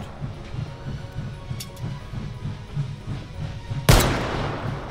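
A single sharp gunshot bursts out near the end over a low rumbling, rhythmic engine-like drone in the VR shooting game H3VR, set in a snowy scene.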